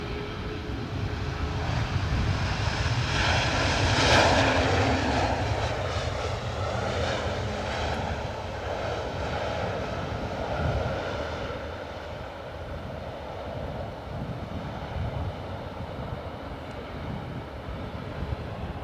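A Loganair aircraft lines up on the runway at Edinburgh Airport, its engines giving a continuous moderate drone that peaks briefly early on and then settles to a steady hum at middle distance.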